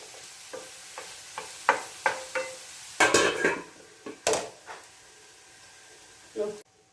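A spoon stirs vegetable mezhukkupuratti frying in a pan, giving a run of close scraping strokes and clanks over a faint steady sizzle, with a louder clatter midway.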